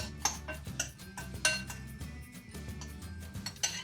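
A small spoon clinks lightly while salt and seasoning are mixed: a handful of faint, bright taps spaced irregularly, close by and otherwise quiet.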